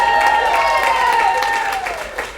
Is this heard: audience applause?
yes